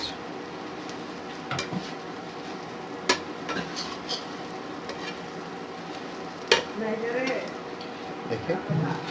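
Egg omelet frying in a pan, bachelor-style, with a steady sizzle and occasional sharp clinks of utensils running beneath ongoing talk.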